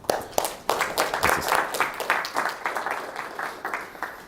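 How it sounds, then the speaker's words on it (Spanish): Audience at a university talk on HIV risks and prevention applauding the speaker, a loose crowd of clapping hands in a room with uneven, rippling bursts that hold steady without fading. "un aplauso para Henry Anchante"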